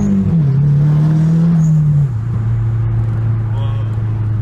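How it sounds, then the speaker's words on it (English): Turbocharged SR20-swapped Nissan 240SX engine revving loud and close, pitch climbing then dropping as it settles to a steady drone, with brief sharp pops; a voice talks over it. "You can hear a spool, hear loud pops."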